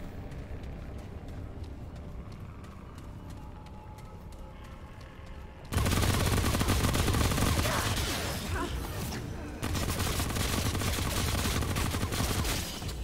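A weapon in Remnant: From the Ashes fires in a rapid stream of loud, dense shots that begin abruptly partway through, with a short break before a second burst; quieter game ambience and faint clicks come before it.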